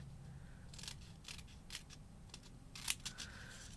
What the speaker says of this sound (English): You take your scissors one more time. And you just cut